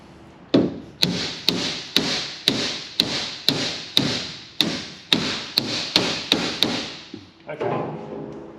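A hammer strikes repeatedly to knock a window out of its frame, about a dozen sharp, evenly spaced blows ringing close and loud before a short scraping rustle at the end.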